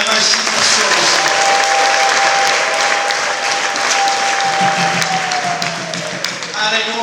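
A church congregation applauds loudly and steadily in a dense, sustained burst, with voices mixed in throughout.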